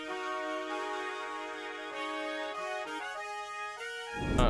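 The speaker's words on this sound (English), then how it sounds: "next thing we did was we went to Session Horns Pro, and then we added this trumpet section." Trumpet section from the Session Horns Pro virtual instrument in FL Studio playing sustained brass notes that step through a short line, soft and steady with no voices.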